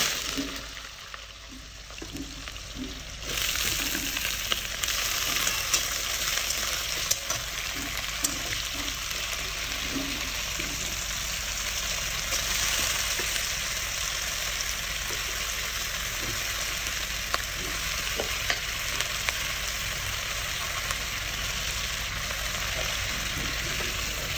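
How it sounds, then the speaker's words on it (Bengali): Sliced potatoes frying in a pan, a constant close sizzling hiss with a faint crackle running steadily throughout, with no voices heard. "এখন আলুটাকে ভাজা করবো,"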